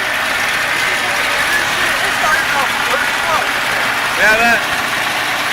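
A Nissan 720 pickup truck engine idles steadily at close range with a smooth, even hum, while people talk briefly over it.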